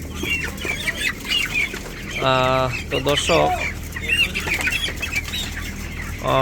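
Broiler chickens in a controlled-environment shed cluck nearby while wings flap in bursts, with a person speaking briefly in the middle.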